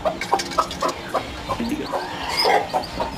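Faint, scattered high chirps and peeps from small chicken chicks, irregular and close, over a soft background hiss.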